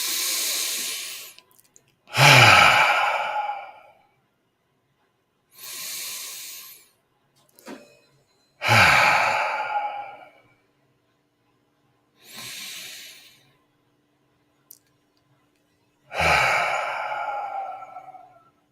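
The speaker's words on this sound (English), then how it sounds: "we'll begin that with an invitation to breathe 3 deeply satisfying breaths together" Three slow, deep breaths taken together in a calm mindfulness setting, each a long airy inhale followed by a fuller sighing exhale, close and clear with quiet pauses in between and no talking.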